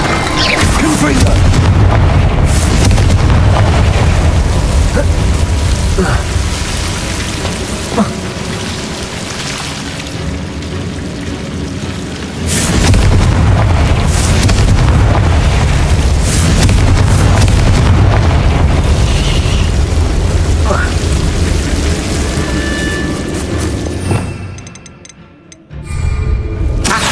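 Repeated Confringo blasting-spell explosions boom through a Hogwarts Legacy battle, loud dense blasts and rumbling impacts layered over busy game sound for a long stretch, with a brief drop in level near the end.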